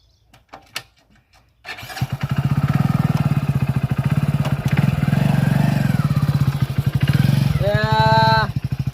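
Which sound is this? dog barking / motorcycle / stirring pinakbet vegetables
motorcycle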